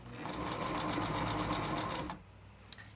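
A sewing machine runs in a continuous rapid stitching buzz for about two seconds as it sews the pinned pleats of a tri-fold fabric face mask, then stops, followed by a single small click.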